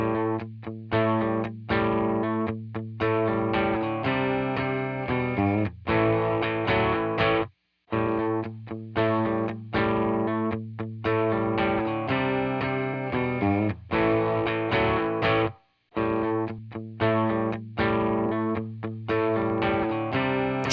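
Electric guitar through a Tonex tube amp capture rings out in driven, distorted chord strums for about twenty seconds, loud and sustained with two short stops for silence, no voices.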